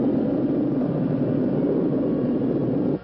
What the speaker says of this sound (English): Start the engines and get ready for a vertical landing.